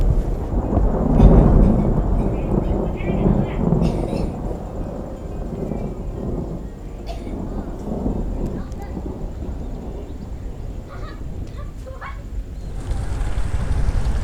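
Thunder rumbling around a mountain summit in Thailand during a storm, heard from within it: a low, continuous roll with surges rather than a sharp crack, over wind noise on the microphone and steady background sound.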